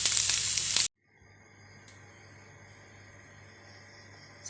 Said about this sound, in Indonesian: Goreng-goreng dulu, setelah garing nanti Mak Yati akan blend kulit ini dan ditapis